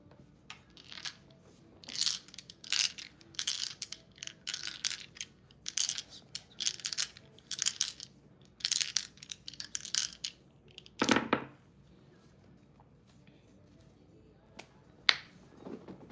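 Small dice rattle and clatter in a hand and on a surface during a live tarot reading, a series of quick crisp clicks and rolls in bursts, fairly close and quiet, followed by a louder tumble and pauses.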